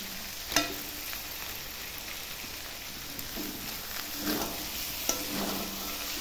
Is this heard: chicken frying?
yes